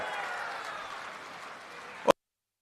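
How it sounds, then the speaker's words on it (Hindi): Crowd applause at an Amit Shah political rally in Kushinagar, a fairly distant, even wash of clapping that holds steady and then cuts off abruptly. "श्री विजय कुमार दुबे के लिए जोर से ताली बजाओ जरा"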